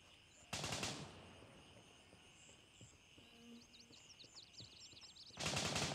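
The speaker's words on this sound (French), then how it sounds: "ça tire juste là-bas en face" Distant automatic gunfire in the military shooter Gray Zone Warfare, two short loud bursts of rapid shots at the start and end, with quieter ambient chirps and faint clicks between them.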